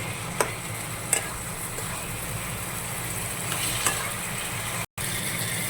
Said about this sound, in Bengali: মশলাটা একটু কষানো হয়ে গেছে